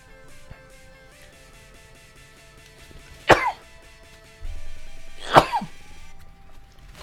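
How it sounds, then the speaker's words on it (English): Two sharp sneezes a couple of seconds apart, close and loud, with quiet shuffling and faint background tones between them. "All the rain has been making me sneeze."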